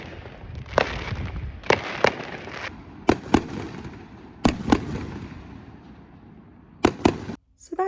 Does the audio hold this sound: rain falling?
no